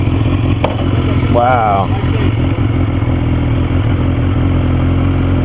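BMW S1000RR motorcycle engine idling close and loud as a steady rumbling drone, with a brief exclaimed voice over it early on.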